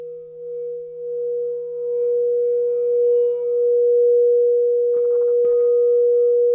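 A steady sustained pure tone for sound therapy, tuned to the 963 Hz solfeggio pitch, holds evenly throughout with a faint lower hum beneath and two brief clicks near the end.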